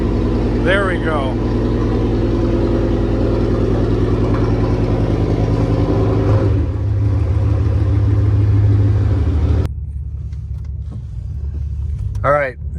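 A straight-piped Pontiac Bonneville GXP engine idles and rumbles loudly and up close, its steady low drone swelling briefly before dropping to a quieter idle, with short bursts of speech over it.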